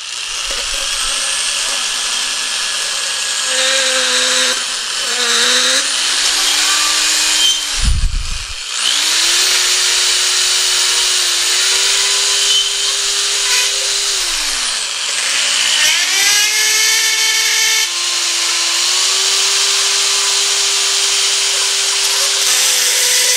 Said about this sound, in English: I'm gonna take a rotary file and I'll put it on my drill.